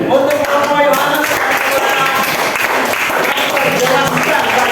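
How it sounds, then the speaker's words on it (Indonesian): Loud, sustained group clapping fills a classroom-style session as a group is applauded for its report, with voices faintly mixed into the steady patter. "Kita tepuk tangan untuk kelompok Yohanes"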